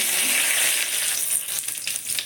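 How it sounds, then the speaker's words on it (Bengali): Bay leaf, panch phoron and green chilli are tempered in hot oil for a katla fish and bottle gourd curry, making a loud, continuous sizzle with dense crackling that eases slightly partway through. "পাঁচফোড়ন দিলাম তেজপাতা সবসময় ধুয়ে দেবেন পাঁচফোড়ন দিলাম কাঁচা লঙ্কা ফোড়ন দিলাম"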